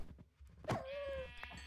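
A sheep bleats in Minecraft, one drawn-out tonal bleat rising over faint game noise, fairly close.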